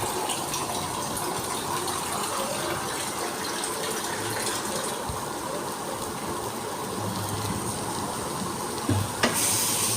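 Water is poured into a hot pan of sizzling colocasia (taro root) curry, producing a loud, continuous hiss and bubbling sizzle that holds steady for several seconds with a few clinks near the end.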